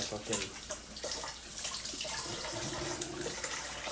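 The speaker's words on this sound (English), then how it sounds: "Let's wash these hands." Tap water runs steadily into a sink during handwashing, a continuous hiss with faint splashing under light background noise.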